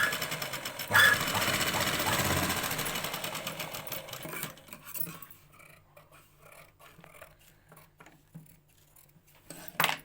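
Sewing machine stitching embroidery, a loud rapid mechanical whir for the first few seconds that then drops to quieter intermittent stitching and clicks, with no talking.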